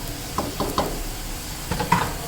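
Chopped tomatoes are stirred into spiced beef keema in a pan, with several soft scraping strokes and a few clinks of the spoon against the pot over a low sizzle.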